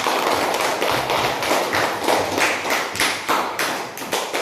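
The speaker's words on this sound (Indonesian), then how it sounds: "beri tepuk tangan" Steady hand clapping from a small group of fourth-grade pupils in a classroom, close and fairly loud, with a rapid, uneven rhythm that continues throughout.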